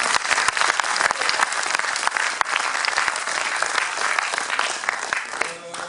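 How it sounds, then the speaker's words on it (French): A theatre audience claps loudly and steadily at close range, a dense and continuous wash of applause that dies away at the very end. "Je peux les applaudir."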